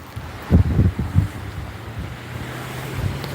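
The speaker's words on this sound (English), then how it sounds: "The wind is too fast." Strong wind buffets the microphone in low, rumbling gusts, loudest near the start, with a steady roar continuing throughout.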